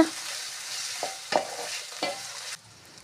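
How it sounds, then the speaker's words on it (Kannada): Chopped tomatoes fry for egg bhurji with a soft, steady sizzle, broken by a few scraping stirs of a spoon in the pan before the sound cuts away near the end. "ಈ ಟೊಮೆಟೊ ಮೆತ್ತ ಆಗೋ ತನಕ ಫ್ರೈ ರೀ"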